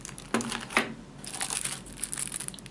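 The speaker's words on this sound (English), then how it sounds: "Now we are going to open the box." A cardboard retail box for a PCI-E USB 3.0 hub and all-in-one card reader being opened by hand, with crinkling packaging, a couple of sharp cardboard snaps and continuous rustling close up, no talking.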